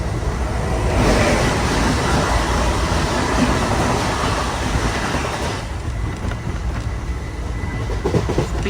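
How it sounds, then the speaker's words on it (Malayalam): Inside the Nilgiri Express sleeper coach at 110 km/h, a dense, continuous rush of wheel and wind noise holds steady throughout, with faint clickety-clack beneath and no voices. "ട്രെയിൻ ഇപ്പം 110 km/h സ്പീഡിലാണ് പോയിക്കൊണ്ടിരിക്കുന്നത്."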